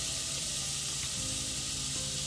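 Onion sizzles steadily in butter in a pot over low to medium heat, a close, even frying hiss with no talking.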